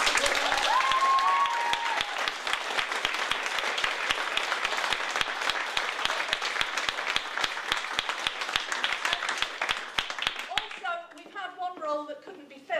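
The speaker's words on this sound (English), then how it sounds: "I want a really big round of applause for our" A big round of applause from a club audience rises in dense, sustained clapping for about ten seconds, then cuts off as voices resume close by.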